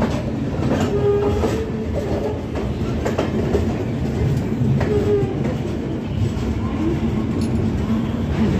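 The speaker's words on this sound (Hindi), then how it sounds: "और आप लोग देखिए अराइवल, ये है महाबोधि एक्सप्रेस जो गया से नई दिल्ली जाती है।" The Mahabodhi Express from Gaya pulls into New Delhi railway station with a loud, continuous rumble of wheels and carriages, faint clickety-clack and occasional squeals, and a steady roar throughout.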